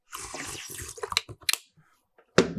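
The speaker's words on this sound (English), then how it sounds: "Today's ASMR sip is some Fiji water with the nipple attachment" Fiji water sipped from a bottle fitted with a nipple attachment, close and intimate: a string of small wet sucking and swallowing sounds, then a quiet pause and one final sharp sip.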